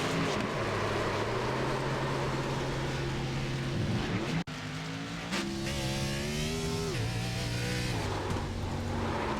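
Race car in the iRacing sim pulling off pit lane at Daytona under hard throttle, engine note climbing and wavering as it spins out, loud and close with rising and falling pitch and a brief cut midway.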